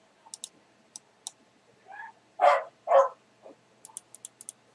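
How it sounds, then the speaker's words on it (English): A dog lets out a few short muffled barks and yips from a nearby room, faint against scattered mouse clicks, with no talking. "My apologies if you hear my dog."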